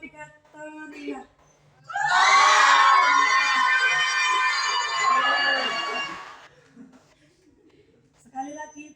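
A group of high school students shouts and screams together loudly on command, a sustained crowd roar lasting several seconds, with brief talking before and after.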